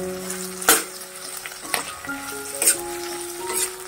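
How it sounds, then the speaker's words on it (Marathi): Bell pepper sautés in a hot pan for mushroom masala, with a steady sizzle broken by loud spatula scrapes and clanks against the metal pan at close range. "ही चांगली परतून घ्यायची।"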